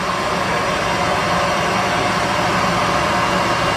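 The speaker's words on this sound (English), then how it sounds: "Start the engine, Chris." A Boeing 737-200 jet engine in a flight simulator spools up as a steady, loud broadband roar and hum, constant and unbroken with no talking.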